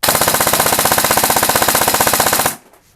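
Rapid, steady full-auto airsoft fire with a SOLINK programmable brushless motor, a fast even stream of sharp clicks for about two and a half seconds, then it stops abruptly.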